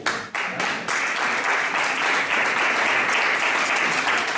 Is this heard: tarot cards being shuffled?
no